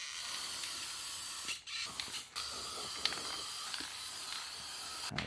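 Spray paint coating an old rusty toolbox, a steady close hiss from the can with two brief pauses between passes, fairly quiet, no voices.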